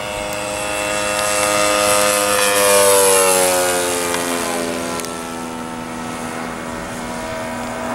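A radio-controlled Spitfire model airplane with retractable landing gear drones steadily overhead, its engine pitch sliding as it passes, swelling louder near the middle and easing off, with no talking.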